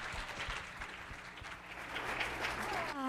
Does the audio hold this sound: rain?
no